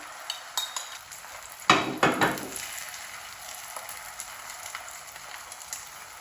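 Egg yolk poured into a hot frying pan, where a short burst of sizzling flares up amid a few metallic taps and utensil clinks, then settles to a quiet hiss.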